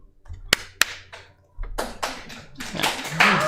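An audience at a game developer conference claps for a game presentation, starting with a few sharp isolated claps that swell into a louder, denser round of applause.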